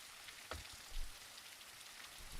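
Rain falls in the Castle Craft video game as a steady, fairly faint patter with a dense, even hiss and a few louder drops, heard alone without talk.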